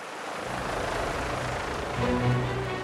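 Helicopter engine and rotor roar close by during a gendarmerie rescue evacuation on La Réunion, a loud continuous broadband drone that swells slightly near the end, with no talk.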